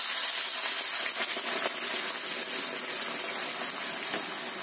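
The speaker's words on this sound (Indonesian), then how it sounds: "Kemudian ini kita tambahkan sekitar 1 liter air." About one liter of water pours in a continuous gushing hiss into a pot, close up, gradually easing in loudness.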